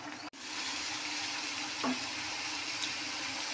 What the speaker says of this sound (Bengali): এবার এখানে আমি গ্রেভিটাকে ই করার জন্য জল দিয়ে দিলাম